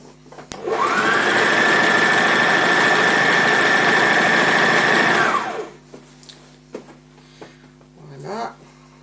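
Close, loud domestic sewing machine topstitching fabric, running steadily for about five seconds at an even whir, then stopping; faint handling clicks and rustles follow.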